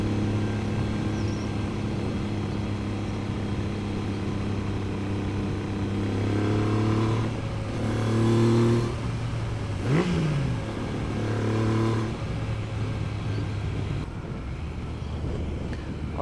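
A 23-year-old Triumph 900 Cafe Racer motorcycle engine accelerating while riding, a steady loud drone with rising revs and gear changes under constant wind rush.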